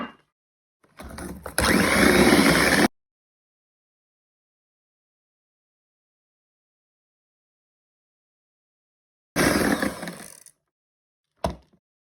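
An electric mixer beats an egg into creamed butter and sugar, running in a loud burst of about two seconds, then silence, then another burst of about a second and a short final blip.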